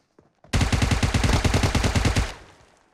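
Loud, close sustained automatic fire from a rifle in PUBG Mobile, roughly twenty rapid evenly spaced shots in under two seconds, ending in a short decaying echo.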